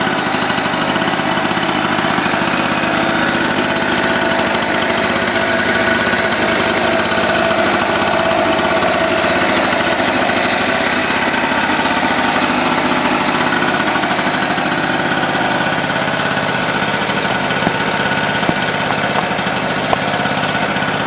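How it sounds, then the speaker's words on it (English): A two-stroke portable generator engine runs at a steady, loud, buzzing drone with a constant rattle throughout, heard close and with nothing else over it. "The generator is now started."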